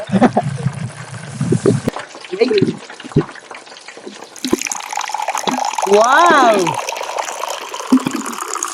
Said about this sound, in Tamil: அது தண்ணி ஊற்றி லைட்டாக தண்ணி